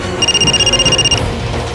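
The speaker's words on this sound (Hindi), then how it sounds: "ममता का फोन है क्या?" A telephone rings indoors in a household scene from the Indian crime drama Crime Patrol, a loud electronic trill with a rapid pulsing warble that stops after about a second, over a low background score.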